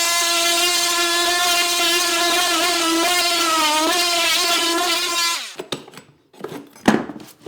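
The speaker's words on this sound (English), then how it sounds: "a cut-off tool." An oscillating cut-off tool buzzes steadily as it plunges through a wooden board on a wall, its pitch wavering slightly under load for about five seconds before stopping, followed by a few knocks and scraping handling noises.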